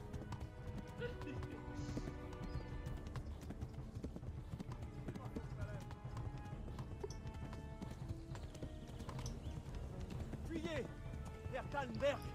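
Rapid, rhythmic horse hoofbeats gallop steadily throughout in the video game Kingdom Come: Deliverance while people talk over them.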